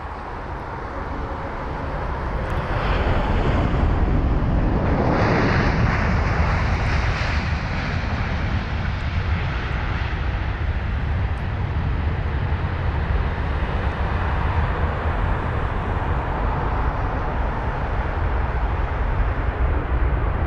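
A one-year-old Airbus A330neo, registered April 2022, lands at London Heathrow; a loud, steady broadband engine roar swells in over the first couple of seconds and holds for the rest, with no voices over it.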